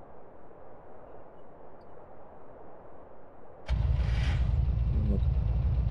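A car engine in GTA cranks and catches abruptly after a few seconds of low ambient hum, then settles into a loud, steady idle rumble.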